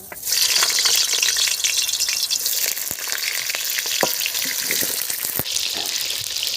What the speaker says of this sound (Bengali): কড়া গরম হয়ে গেছে, তেল দিয়ে দিচ্ছি, আলুগুলো ভেজে নেব।